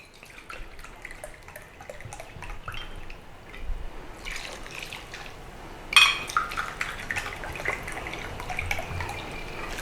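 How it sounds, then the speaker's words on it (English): Rice wine poured into a pot for Thai-Chinese braised pork leg, with soft drips at first and then a louder splashing gush midway that trickles on, close and fairly quiet. "Now I'm going to put 2 cups of rice wine in here, 2 full cups."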